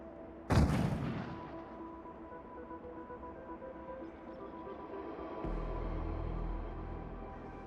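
A single loud explosive detonation in Hitman (2016), a sharp close blast that decays into a rumbling tail, followed by a low sustained rumble.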